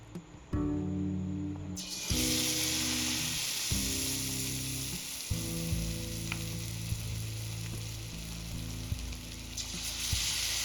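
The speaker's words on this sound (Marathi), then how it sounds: "ही स्लाईस अशा प्रकारे डीप करून घ्यायची बॅटरमध्ये व्यवस्थित कोट झाले की लगेच कढाईमध्ये सोडायचं" Batter-coated potato slices for batata bhaji dropped into hot oil in a kadhai, sizzling and bubbling loudly, with fresh bursts of frying as more slices go in.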